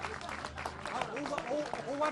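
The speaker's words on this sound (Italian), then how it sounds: "c'è l'applauso" Crowd applause at a 2019 election result celebration in Italy, steady clapping mixed with cheering and overlapping voices as people talk loudly throughout.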